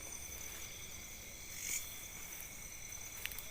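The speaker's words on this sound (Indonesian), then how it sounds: "Hanya terdengar suara jangkrik" Crickets chirp in a steady, high shimmering drone across a quiet night in a garden, with a brief louder trill partway through.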